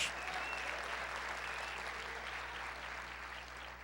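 A church congregation applauds during a worship service, a dense, steady wash of many hands clapping together that stays loud throughout and eases off slightly toward the end.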